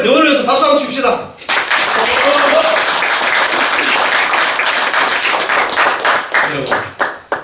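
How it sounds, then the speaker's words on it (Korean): A loud burst of audience applause follows a man's speech, sustained hearty clapping from a large crowd that tapers off at the end. "우리 베토벤 영혼을 위해서 박수 한번 칩시다"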